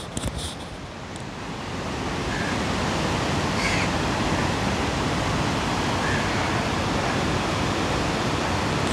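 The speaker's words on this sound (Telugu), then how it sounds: "బీచ్ అలల శబ్దాలు చూడొచ్చు" Ocean waves at Vizag beach near Tenneti Park, a broad continuous roar of surf that swells in after a couple of seconds and holds steady and loud.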